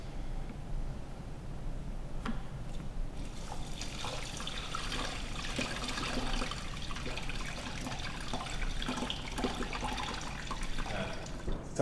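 Water trickles and splashes steadily as it is poured from a fish storage tank, a continuous close liquid flow with no talking.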